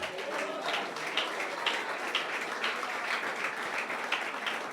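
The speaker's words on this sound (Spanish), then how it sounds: "Denle un aplauso al que vive." A church congregation gives a sustained round of applause, with individual hand claps audible in the continuous clapping and a few faint shouts mixed in.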